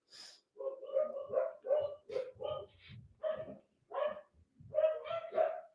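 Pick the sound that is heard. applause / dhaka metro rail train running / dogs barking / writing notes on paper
dogs barking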